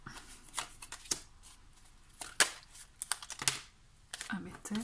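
Tarot cards being shuffled by hand, with irregular bursts of crisp riffling and slapping against a quiet room background, close up, no talking.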